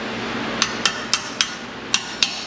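Knipex pliers used as a hammer on a customer repair job; six sharp metallic knocks at a steady, even pace, close and loud over a low background hum.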